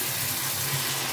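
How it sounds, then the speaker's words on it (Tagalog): Tap water runs steadily into a container holding frozen liver set to soak, a continuous close splashing gush with no talk over it. "Tapos lagyan natin tubig."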